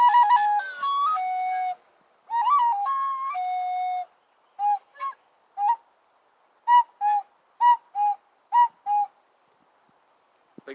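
Amateur flute playing a series of clear tonal notes, first longer sustained phrases and then a run of short, evenly spaced two-note calls imitating a cuckoo bird, close and solo.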